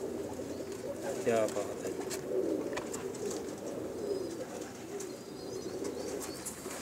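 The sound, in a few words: house pigeons cooing and flapping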